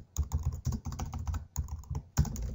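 Rapid clicking keystrokes on a computer keyboard as a message is typed, bursts of close, crisp taps with brief pauses between words and a short gap midway, no talking.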